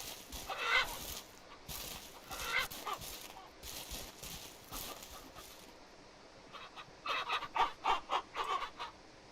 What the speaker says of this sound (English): I'm sure he's a rooster as well.